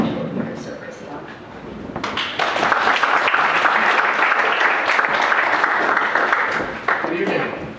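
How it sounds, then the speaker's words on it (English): Audience applause at an evening poetry reading, starting as faint scattered sounds and then swelling into loud, sustained clapping that holds steady for several seconds before dipping near the end. "I like that I get applause just for standing up"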